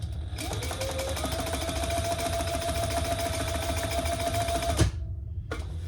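A sewing machine stitches the sides of a diaper backpack in one loud, continuous run of about four and a half seconds, then stops abruptly, followed by a brief restart.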